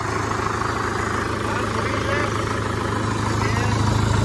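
A Sonalika 60 tractor engine idles steadily, a constant low diesel rumble close by, while people talk over it.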